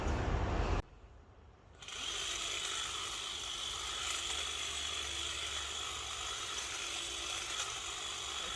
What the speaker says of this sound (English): We couldn't live without our extra long handled hedger.